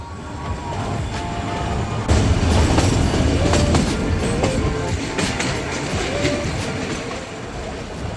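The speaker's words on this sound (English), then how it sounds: "The charm of this 100-year-old train ride is a major draw for tourists" The century-old hill railway toy train between Ooty and Coonoor rumbles along steadily with clattering wheels, rattling carriages and occasional faint squeals, heard from on board as a continuous moderately loud roar.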